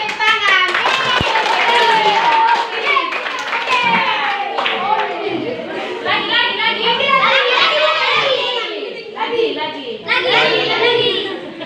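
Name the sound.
children clapping hands in classroom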